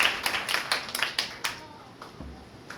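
A church congregation at a Sunday service claps, distinct sharp claps in a quick rhythmic pattern that thin out and fade after about a second and a half, leaving a quieter room.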